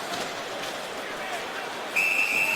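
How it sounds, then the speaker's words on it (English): A referee's whistle blows sharply and loudly near the end of an NHL ice hockey game between the Toronto Maple Leafs and Columbus Blue Jackets in October 2013, over steady arena crowd noise and a commentator's voice. "And we got a whistle here, and a holding call is coming here."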